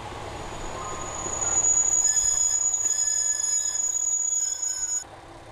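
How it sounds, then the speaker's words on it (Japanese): The first downbound train of the morning arrives at Hibayama station on the Geibi Line, rolling in with a rising rumble and a sustained high-pitched wheel squeal that cuts off as it comes to a stop, with no talking. "広島三次方面下りの始発列車です。"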